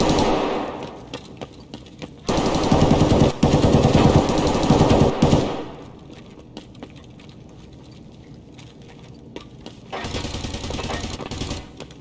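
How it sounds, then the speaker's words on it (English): Gunfire in the video game Escape from Tarkov: bursts of rapid automatic shots with sharp cracks, loud and close, broken by quieter gaps before more firing resumes. "he's already fucking shooting over there"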